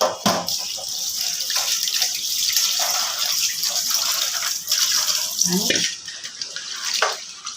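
Tap water running loudly and steadily into a sink as cut bottle gourd pieces are washed, with splashing and shifting flow, briefly dipping near the end before resuming.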